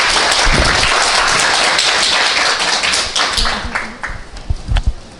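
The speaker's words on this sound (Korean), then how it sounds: "금일의 주인공인 두 분께 박수 부탁드리겠습니다" An audience at an artist talk accompanying an art exhibition applauds two speakers: loud, dense clapping from a full room that fades in the last seconds into scattered claps and a few thumps.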